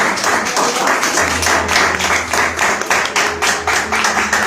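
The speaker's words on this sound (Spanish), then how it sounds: "Un aplauso al Rey de Reyes." A church congregation claps in rapid, rhythmic unison, loud and continuous throughout, with background music or organ tones underneath.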